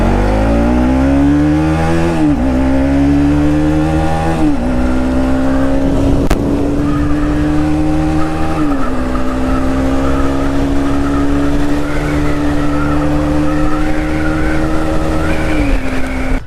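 A Bajaj Pulsar RS200 BS3 motorcycle rides on the road, its engine droning loud and steady, with repeated gear shifts that drop and then raise the pitch.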